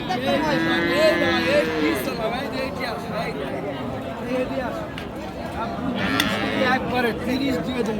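A Friesian cow lows once near the start amid a busy crowd of chattering voices at Raniganj cattle market, Dinajpur, with more distant animal sounds and people talking throughout.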